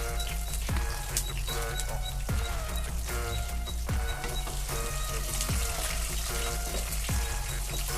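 Peanuts and green chillies fry in a pan, a soft, continuous sizzle broken by regular scraping knocks of stirring every second or so.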